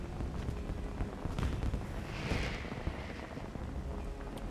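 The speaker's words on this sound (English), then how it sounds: "do they really need to play the fireworks during cutscenes?" Fireworks during a Final Fantasy XIV Heavensward cutscene held for the 10-year anniversary celebration, scattered pops and crackles with a hissing burst over a dense background rumble.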